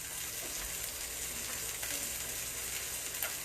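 Steelhead trout fillet laid skin down in a pan of hot oil and butter, giving a steady, even sizzle of frying that runs unbroken and fairly soft throughout, with no one talking.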